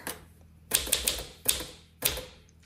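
A 1954 Silent Super manual typewriter clacks through three quick bursts of keystrokes after the margin release is pressed, each burst a sharp metallic strike with rapid follow-up taps, close and alone.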